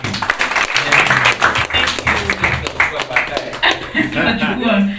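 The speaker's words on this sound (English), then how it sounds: "A round of applause again for Henry" Audience applause for Henry at an evening screening event for a Kenyan short film, a dense wash of clapping lasting the full stretch with voices and murmuring mixed underneath and a speaker briefly heard over it near the end.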